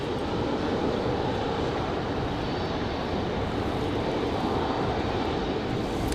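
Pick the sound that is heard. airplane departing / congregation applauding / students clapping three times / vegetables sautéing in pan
airplane departing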